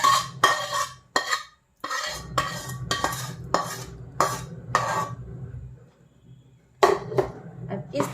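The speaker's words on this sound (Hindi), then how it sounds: "अब इस तरह से इनको आपस में मिक्स कीजिए, इनको अच्छी तरह से मिक्स करेंगे" Raw mango pickle being mixed with spiced mustard oil and Kashmiri red chilli, a spoon scraping and clinking against a metal bowl in repeated bursts, with short pauses between strokes.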